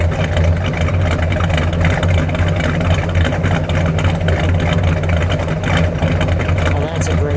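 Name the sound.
1967 Plymouth Belvedere GTX 440 engine idling rumble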